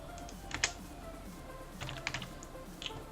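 Keys clatter on a computer keyboard in short irregular bursts of typing with pauses between them, close and fairly quiet, with no talking over it.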